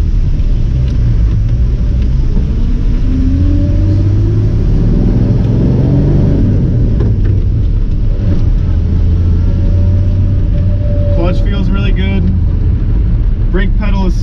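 A 1947 Chevy 3100 Thriftmaster pickup with a three-speed manual drives down the road, its engine a loud, close, steady rumble that rises and falls through gear changes, with a voice talking in the cab.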